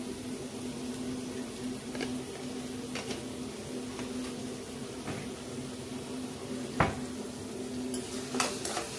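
Sliced onions with ginger, garlic and green chili sautéing in a pan for a Kerala-style duck curry give a steady low sizzle, with occasional soft knocks of stirring and a sharper clink near the end.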